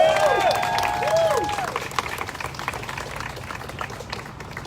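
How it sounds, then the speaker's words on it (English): Crowd applause and cheering at an outdoor march against immigration raids in Los Angeles, dense clapping that fades gradually, with whistles and voices in the crowd over it at first. "And do a real round of applause for everybody who is here."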